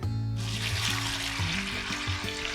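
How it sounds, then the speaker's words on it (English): Tap water gushes steadily into a large stock pot over vegetable scraps and celery leaves, a loud continuous splashing rush under background music. "We're just gonna cover this with water."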